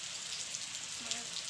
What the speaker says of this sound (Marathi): आज सकाळ सकाळच लागलाय पाऊस पडायला.